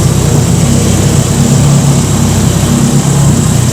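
A Porsche 944 with a big turbo setup runs on its first start, a loud steady engine drone with a low throbbing rumble close by, unbroken throughout.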